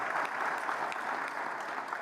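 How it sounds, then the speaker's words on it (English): Steady audience applause at an airport business meeting, an even wash of many hands clapping for a couple of seconds with no talking over it. "that's worth clapping for"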